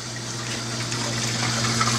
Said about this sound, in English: it comes over and drains into a filter sock